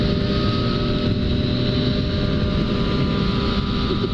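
Yamaha MT-09 motorcycle engine cruising in sixth gear, a steady loud drone mixed with rushing wind noise, unbroken and constant, with no talking.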